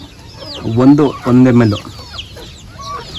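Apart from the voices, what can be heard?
chickens clucking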